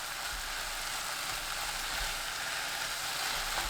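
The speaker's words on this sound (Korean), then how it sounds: "파, 청양고추, 홍고추 넣고 1분 볶습니다." Scallions with green and red chili peppers stir-frying for a tofu dish, giving a steady, even sizzle throughout with faint occasional scraping, close and moderately quiet with no talking.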